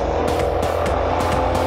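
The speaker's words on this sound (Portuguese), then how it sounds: "Deixa o carro passar aqui." A car drives past on a street in Caucaia, Ceará, its steady engine and road noise filling the short moment at close range, with repeated sharper swells as it goes by.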